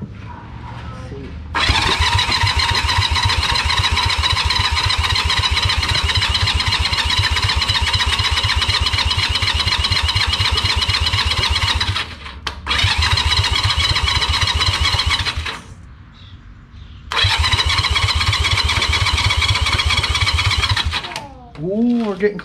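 A neglected custom cart's engine cranks loudly in long, steady whirring bursts, stopping and restarting twice without catching, with brief talk between attempts.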